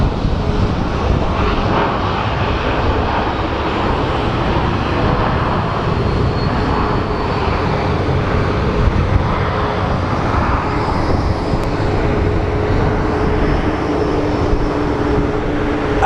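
A jet airliner lands at Sky Harbor International Airport, its engine and wind roar holding a steady, loud broadband rumble throughout with no talking.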